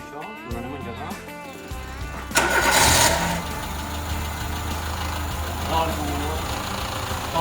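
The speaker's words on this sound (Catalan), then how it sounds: "Vale, per ara encentarem això, ho anem a engegar." A 1980s Citroën AX engine cranks briefly, catches and settles into a steady, fairly loud mid-pitched idle, with voices over the start.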